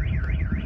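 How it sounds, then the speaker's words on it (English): An employee's car alarm, triggered by seized fireworks being blown up at an Orange County landfill, wails in a steady rising-and-falling siren tone, loud and continuous with a low rumble beneath. "the explosions still set off employee car alarms"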